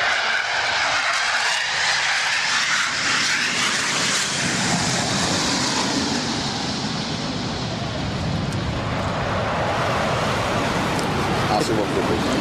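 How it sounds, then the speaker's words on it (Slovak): Su-22 military jets taking off together in formation at an air show, a loud continuous roar that swells and holds throughout with broadband rumble, with no talk over it. "Diváci sledujú ich spoločný vzlet vo formácii. Sprevádzaný samozrejme impozantným zvukom."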